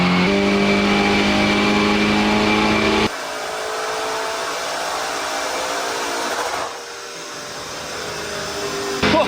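Rebuilt Lamborghini Urus with an upgraded exhaust, engine held at high revs with a loud, sustained roar, then dropping to a lower, rougher idle-like drone near the end.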